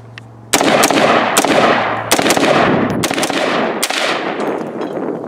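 An AR rifle fitted with a new bolt carrier group empties the rest of its magazine outdoors in a loud, rapid string of sharp close shots with ringing echoes.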